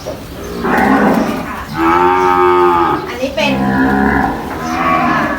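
Gray cattle in a breeding-bull pen on a Thai cattle farm, mooing loudly and close: three long, drawn-out lows with short pauses between them, and a brief bit of speech.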